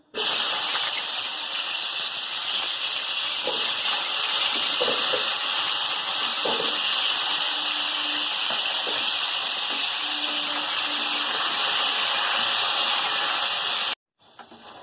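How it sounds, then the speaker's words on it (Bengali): A strong, continuous hiss of food frying in hot oil runs for a long stretch with faint scraping, then cuts off abruptly. "তেল গরম হয়ে গেছে আলুটা দিয়ে দেবো"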